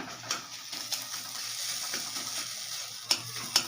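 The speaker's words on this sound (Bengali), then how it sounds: "এবার মশলা দিয়ে ডিমগুলোকে একবারে নাড়িয়ে নেব" Soft sizzling as fried eggs with spices are stirred in a pan, intermittent scrapes, a couple of sharper clinks near the end; close but fairly quiet, no talking.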